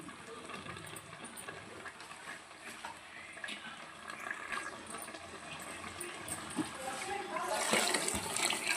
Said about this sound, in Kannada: ಇವಾಗ ನೀರು ಹಾಕೊಂಬಿಡೋಣ. ಬಿಸಿನೀರು